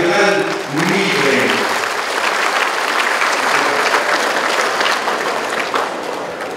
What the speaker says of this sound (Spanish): pedimos los aplausos para ver la Copa Regional Mije